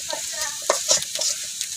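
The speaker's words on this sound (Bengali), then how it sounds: "আমার পেঁয়াজ রসুনগুলো কিন্তু ভাজা হয়ে গেছে।" Onion and garlic fry in a pan while being stirred, short scraping strokes and clinks over a bright sizzle, close and fairly loud, lasting under two seconds.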